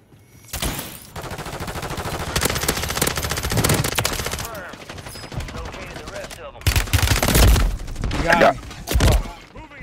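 Bursts of small caliber gunfire in the video game Warzone, loud rapid automatic fire in sustained stretches with short pauses, crackling close by, with impacts and thuds mixed in.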